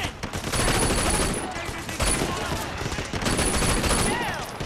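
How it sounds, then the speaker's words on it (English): Sustained bursts of gunfire in the open-world game Sleeping Dogs, loud rapid volleys rattling across the clip with shrill high tones, mixed with faint game voices. "I'm shooting these fools."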